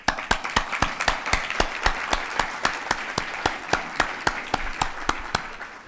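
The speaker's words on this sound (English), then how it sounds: "let's give them a big round of applause" An audience at a conference lunch applauds, giving evenly spaced, sharp claps that carry on steadily throughout.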